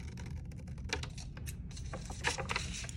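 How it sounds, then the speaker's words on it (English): Scissors cutting paper for a warm and cool colored paper-wave craft, heard as a series of quick, crisp snips close by. "Notice with my scissors, I am opening up the mouth all the way before making my cut."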